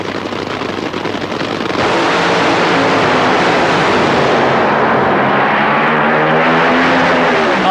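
Two Funny Car dragsters, Kenny Bernstein and Mark Oswald, racing in a 1988 final: a thunderous, continuous engine roar swells after a brief buildup and stays loud and saturated, with a pitch shifting as the cars pass into the distance.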